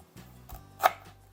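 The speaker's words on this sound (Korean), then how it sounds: "편 썰어주세요." Ginger root sliced on a cutting board with a kitchen knife, a few soft chops with one crisper knife strike standing out, close and quiet.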